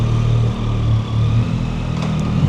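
A motorcycle engine hums steadily at low revs while the bike rides up over a fairly high sidewalk curb, a loud continuous drone with slight dips and no talking.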